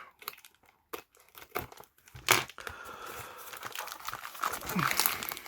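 Crinkly plastic and paper packaging for a fountain pen collection being cut and torn open up close, with rustling, crumpling and tearing bursts continuing throughout.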